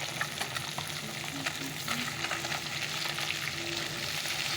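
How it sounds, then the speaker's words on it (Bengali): Small fish fry in a pan after a larger one, giving a continuous, even, fairly close sizzle and crackle with no talking. "বড় মাছটা হয়ে গেল ভাজা এবার ছোট মাছটা বসিয়ে দিয়েছি"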